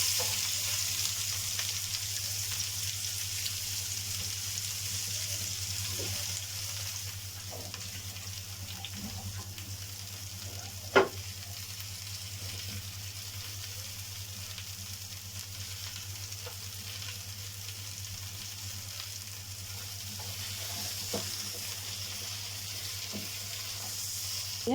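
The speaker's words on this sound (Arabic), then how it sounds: "بقطع البصل جوانح بالشكل ده وبنزل بيه في الزيت" Sliced onion strips frying in oil, a low steady sizzle with occasional stirring scrapes and one sharp clack near the middle, plus a faint running-water hiss and no talk.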